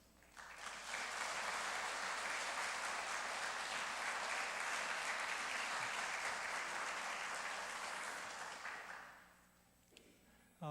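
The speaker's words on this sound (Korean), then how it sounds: "우리 목사님 나올 때 큰 박수로 이렇게 맞이했으면 좋겠습니다." A church congregation at a mission dedication service gives the pastor a big round of applause, loud and sustained for about nine seconds before tapering off.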